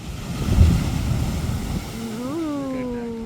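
Ocean waves wash onto a beach in Galle, Sri Lanka, a close rushing surf with wind buffeting the microphone, followed by a voice making a rising, wavering sound.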